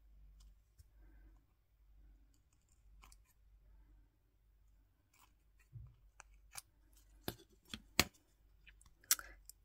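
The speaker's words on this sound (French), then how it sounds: "Couper ce qui dépasse quand même." Scissors trim a paper art collage with quiet, sporadic snips that grow into a run of sharp, crisp cuts near the end, close and alone in a quiet room.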